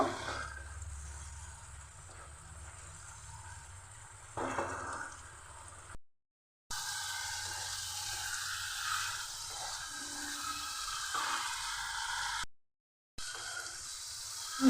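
Chicken sautéing in a pan over a low gas flame for a Bengali chicken and cauliflower curry gives a steady low sizzle. Two brief silent gaps break it, and no one speaks.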